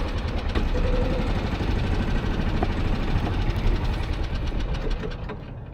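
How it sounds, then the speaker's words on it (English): A street-scraping machine clears mud and debris from new neighborhood roads, its engine a steady, close, rumbling drone with a faint knocking throb that holds evenly throughout and eases slightly at the end. "Guy out there scraping the streets"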